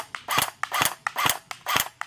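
A Snow Wolf PPSH-41 airsoft gun fires single shots, four sharp snapping cracks evenly spaced about half a second apart, each with a brief mechanical click before it, close and crisp.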